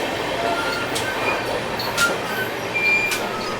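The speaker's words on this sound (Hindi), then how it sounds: "ये जो रूट है, ये कटनी से इटारसी के बीच का रूट है" Amarkantak Express passenger train running between Katni and Itarsi in India, a steady rumbling rattle of carriages in motion with a few faint brighter squeaks and clanks over the continuous noise, no talking.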